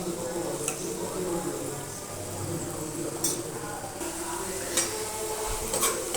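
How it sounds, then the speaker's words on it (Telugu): Potato fry stirred in a pan, with a steady sizzle of frying and soft scraping of the utensil running throughout, plus a few brief clinks against the pan. "ఒకసారి కలుపుకుందాము."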